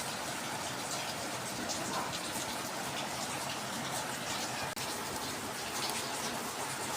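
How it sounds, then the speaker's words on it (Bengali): Rain falls on an Eid day in a Bangladeshi village, a steady, even hiss of drops that holds at a moderate level throughout with no voices. "ঈদের দিনে বৃষ্টি নামছে"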